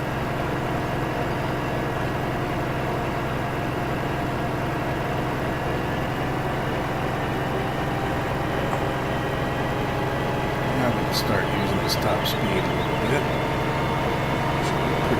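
A truck engine runs steadily at a low, even hum on a rural hillside field road, with a continuous drone and no clear changes in revs, close and unbroken throughout.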